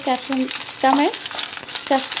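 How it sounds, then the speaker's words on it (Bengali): Onion sizzles steadily in hot oil, with the scrape of a spatula stirring the pan in a few repeated strokes, for chilli soybean. "পেঁয়াজটাকে আমি এভাবে তেলের মধ্যে দিয়ে দিলাম, এটাকে একটু নাড়াচাড়া করে নেব"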